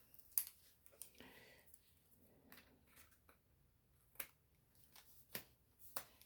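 Small pair of scissors snipping paper for an art collage: a handful of sharp, separate clicks and snips, close and fairly quiet, spaced irregularly with soft rustling between them.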